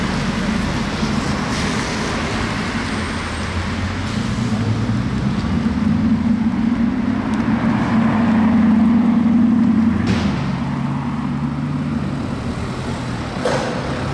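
A Bugatti Chiron supercar drives through Paris streets under escort, its engine a loud, steady low rumble that swells toward the middle and then eases off, blended with surrounding city traffic noise and no clear talking.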